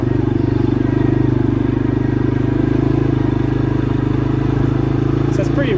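A 2022 CForce 500 ATV idles and strains on an incline as someone tries to shift it into gear, a steady loud rumbling engine drone throughout with a faint rattle near the end.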